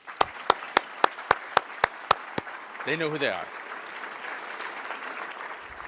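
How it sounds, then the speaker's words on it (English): Sharp, evenly spaced claps ring out about eight times at a library fundraising lunch, close and distinct, before a voice speaks and soft room noise follows. "So if we could also give them a round of applause"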